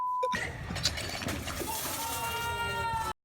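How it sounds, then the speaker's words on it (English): Glass shattering in a gym game, a sharp breaking crash followed by tinkling, ringing fragments and a sustained metallic ring, with a voice in the background before the sound cuts off. "Because I heard glass shattering."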